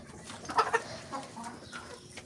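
Chickens cluck a few times close by, with two louder bursts early and softer calls after, over a low background hum.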